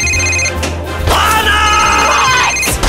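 A loud electronic cell phone ring from the Archer table in the Pinball FX 3 video game trills in bursts, with bright tonal bleeps layered over the game's low hum and a few bangs.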